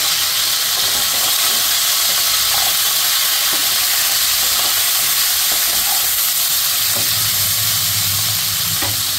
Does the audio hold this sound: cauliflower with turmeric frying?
yes